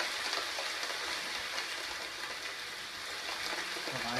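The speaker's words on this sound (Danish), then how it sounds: "Og regnvejrslyd." Steady rain sound effect played from one channel of a sound setup, a dense, even hiss of falling drops that holds at a constant level throughout with no voices.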